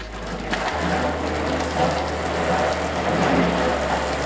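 Water spraying onto a car's finish to simulate rain hisses steadily over a low motor hum, a continuous close wash of droplets with no voices.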